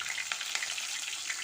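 Cumin and green chillies sizzle in hot oil, a close, soft, continuous crackle with light pops throughout the short stretch.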